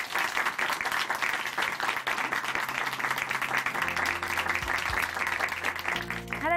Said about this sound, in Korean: 다시 한번 박수 보내드리겠습니다.